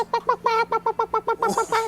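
A person imitates a chicken with a rapid run of about a dozen clucking bursts in an even rhythm, close and fairly loud.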